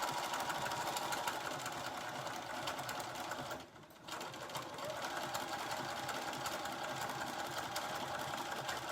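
Sewing machine stitching slowly along a line, a close, steady rapid mechanical whir with a brief dip in the middle before it resumes.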